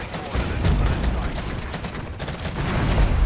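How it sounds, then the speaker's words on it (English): Cluster strike artillery in the Regiments war game, a dense rolling barrage of overlapping blasts and crackling detonations that rumble continuously, loud and close, with a voice faintly underneath. "I think it's a cluster strike."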